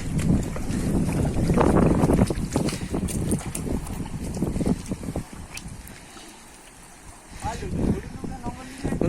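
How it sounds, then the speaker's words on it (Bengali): Strong wind on a Sundarbans river, gusting against the microphone as a rushing roar that swells, dips in the middle, then rises again, with a boat on the water and a person talking at times. "আচ্ছা হাওয়াটাও কিন্তু প্রচুর আছে হাওয়ার বেগ"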